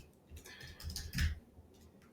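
Soft, uneven clicking of keys being typed on a computer keyboard, close by, with short bursts and brief pauses and no talking.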